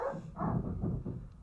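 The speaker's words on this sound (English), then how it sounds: "No, that's definitely my dog." A dog barks a few times in quick succession in the background, short yappy bursts at moderate volume with no one talking over them.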